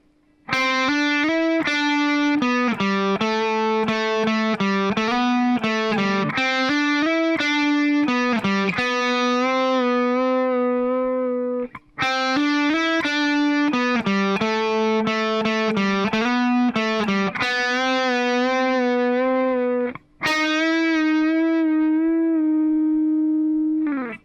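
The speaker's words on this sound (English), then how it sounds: "So altogether, the solo sounds like this," Electric guitar playing a solo at slow speed, with picked notes, string bends and a distorted tone, played twice through and ending on a sustained note, loud and with no voices.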